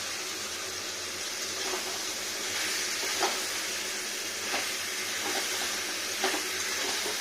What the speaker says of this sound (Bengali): এখানে পোস্ত সর্ষে সব মিক্স মশলাটা ঢেলে দিই